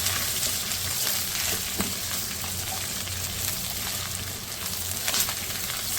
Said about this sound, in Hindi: इसमें हम डाल देंगे ये सारी चिकन और वेजिटेबल्स। लहसुन के साथ थोड़ा सा इसको फ्राई करेंगे।